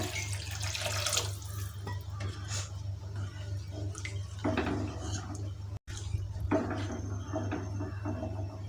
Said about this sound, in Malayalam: ആവശ്യത്തിന് വെള്ളം കൂടി ഇതിൽ ചേർത്ത് കൊടുക്കാം